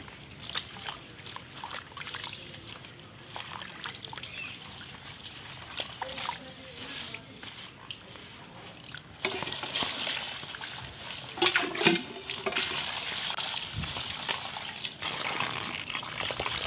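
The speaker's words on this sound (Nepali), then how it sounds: "हामीले यसै गरी यसलाई 2-3 पटक राम्रोसँग पखाल्नेछौँ।" Taro stems being rinsed by hand in clean water, with steady trickling, sloshing and splashing throughout, growing louder and busier in the second half.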